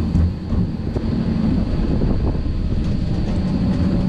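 Roller coaster train running at Schwaben Park amusement park, a steady loud low rumble with wind buffeting, continuous throughout without talk.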